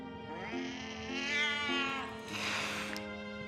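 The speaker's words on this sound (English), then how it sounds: "Cat's not happy." An unhappy cat in Wartales lets out a long, drawn-out, wavering meow, then a second rising complaint, close and clear over a low steady game hum.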